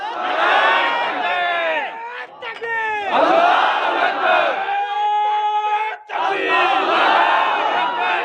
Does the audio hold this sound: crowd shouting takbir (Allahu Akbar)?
yes